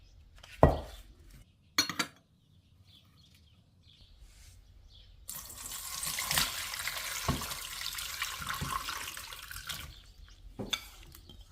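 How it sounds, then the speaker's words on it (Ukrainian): Water pouring steadily from a bowl of soaked dried porcini mushrooms into a sink for several seconds, framed by a few clinks of dishes before and after. "Тепер я всю водичку зливаю з грибу."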